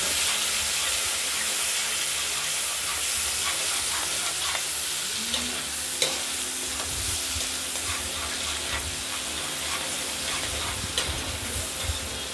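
Steady sizzling of food frying in a pan, a constant hiss with occasional stirring clinks and scrapes, close up and without talk.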